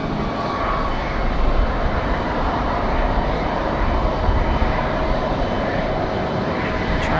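An airliner landing at Raleigh-Durham International Airport, a broad continuous engine roar, loud and steady with no pauses.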